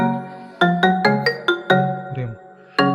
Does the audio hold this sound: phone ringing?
yes